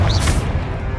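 Confringo blasting spell explosion in Hogwarts Legacy, a loud dense whooshing burst that swells and then fades into a rumbling roar, alone without speech.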